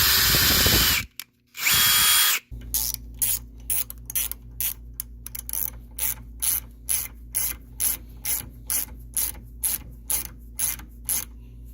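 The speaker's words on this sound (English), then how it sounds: "I'm just gonna go ahead and drill a pilot hole into the bushing." Drill boring a shallow pilot hole into a BMW E36 suspension bushing held in a vise: two loud bursts of drilling at first, then a long series of short rhythmic ratcheting pulses, close up with no talking.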